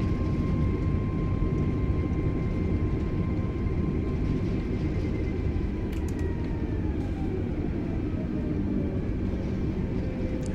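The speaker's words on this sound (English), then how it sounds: "Select reverse thrust. And let the aircraft slow down." Reverse thrust roars on an Airbus A320neo during landing rollout in Microsoft Flight Simulator 2020, a loud, continuous low rumble that holds steady throughout.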